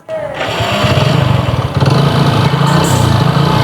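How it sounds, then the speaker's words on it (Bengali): A Hero Deluxe motorcycle engine fires up and settles into a loud, steady idle with a fast, even putter, close to the listener. "আমরা গাড়ির ইঞ্জিন সাউন্ড কন্ডিশনটাও আপনাদেরকে এখন শোনানোর চেষ্টা করব"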